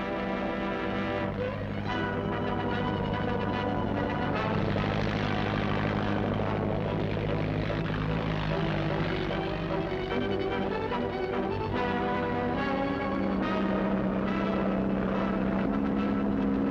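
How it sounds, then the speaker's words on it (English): A biplane engine droning overhead, a loud continuous propeller hum with shifting pitch as it passes, no voices. "we gotta catch that biplane"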